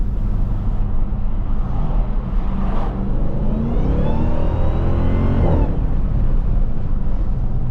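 A supercharged 6.2-liter V8 in a Jeep Trackhawk gives a loud, continuous exhaust rumble while accelerating, with the supercharger whine rising over the deep engine roar. Heard close from inside the vehicle, with no talking.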